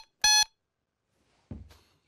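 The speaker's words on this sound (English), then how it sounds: "But if it beeps, it means I've hit the target." A single sharp electronic beep rings out from a toy target when hit, followed after a pause by a dull thud of impact.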